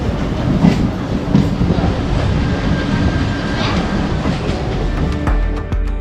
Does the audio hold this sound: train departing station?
yes